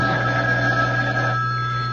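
A telephone rings with a sustained electronic bell tone and steady hum behind it, close and fairly loud, no one speaking.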